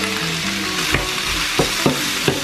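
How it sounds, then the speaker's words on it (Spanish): Sliced mushrooms and red onion seasoned with salt and pepper sizzle loudly in a frying pan, with a few sharp scrapes and knocks from stirring cutting through the steady crackle. "Vamos a mover y vamos a esperar que se sofría todo junto"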